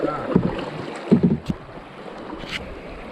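A canoe paddle strokes through river water on the Buffalo River in Arkansas, a few soft splashing pulls spaced about a second apart, close by with light wind noise and no talk.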